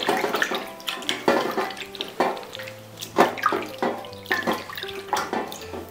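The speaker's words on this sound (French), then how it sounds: "on va le rincer simplement dans de l'eau froide et on recommence l'étape" Cold water runs from a tap while tripe intestine is rinsed by hand, splashing and sloshing in uneven bursts close by, with no talk.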